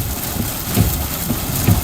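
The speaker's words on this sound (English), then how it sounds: "Sorry for the rain, Scott." Rain falls steadily during a storm chase southeast of Clarksville, Texas, under a PDS tornado warning, a continuous close broadband hiss with a few soft low thumps and no voices.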